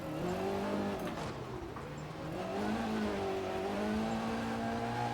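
Rear-wheel-drive rally car in EA Sports WRC on snow and ice, its engine revving up and down in wavering pitch sweeps, steady and moderately loud with no talk.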